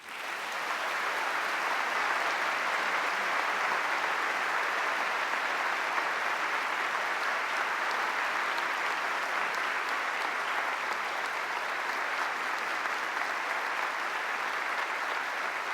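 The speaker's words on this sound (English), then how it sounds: "please join me in welcoming to the Westminster Town Hall Forum, David Brooks." A large audience at a town hall forum in Minnesota breaks into sustained applause welcoming a speaker, a dense, even roar of clapping that swells quickly and holds steady throughout, with no voices over it.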